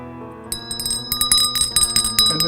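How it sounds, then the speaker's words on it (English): A bell rings in quick, irregular metallic strikes with bright, sustained overtones, fairly close and clear, with no talk over it. "would be connected to a bell."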